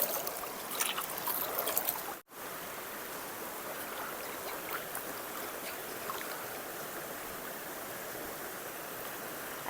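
A river stream flows steadily beside an outdoor shrimp cook, a constant soft broadband rush of water with a momentary dropout, moderately distant and no voices.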